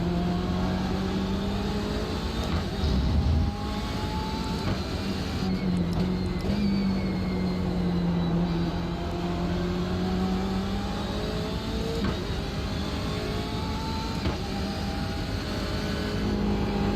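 Simulated BMW M8 race car engines in iRacing at Watkins Glen during an IMSA race, a steady loud engine drone with rising and falling tones from several cars around, no talking.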